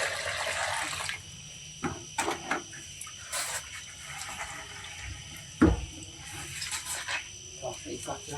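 Water splashes and trickles while an old water tank is rinsed out at home, with intermittent pours and sloshes, a sharp splash midway, and a voice talking over the washing.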